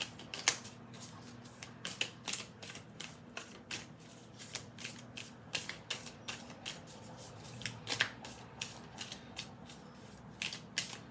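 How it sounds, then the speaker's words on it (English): A deck of oracle cards is shuffled repeatedly near the microphone, with quick riffling bursts and soft slaps in an uneven rhythm, alone without speech. "let's get some oracle cards for you guys real quick up in this piece"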